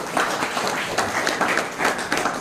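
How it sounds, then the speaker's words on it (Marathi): A meeting audience gives loud, dense applause, with many hands clapping close together in a continuous burst of pulsing claps. "सगळ्यांनी जोरदार टाळ्या वाजवा"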